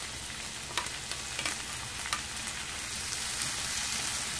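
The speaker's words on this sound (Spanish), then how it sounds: "La vamos a sofreír por unos 3 minutos. Añadimos el tomate y los chiles." Tomato and chiles frying in a pan give off a steady, close sizzle with faint crackles and pops throughout, no voices.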